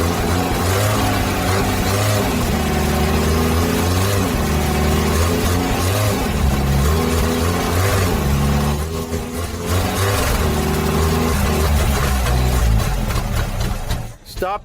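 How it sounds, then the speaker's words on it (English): An old car engine, left forty years in a rotten wooden garage, runs roughly and revs close up, loud and steady throughout with a brief dip partway. "It's working fine right now. Although the engine doesn't seem to be very good."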